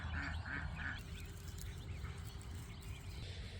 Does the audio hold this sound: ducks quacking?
yes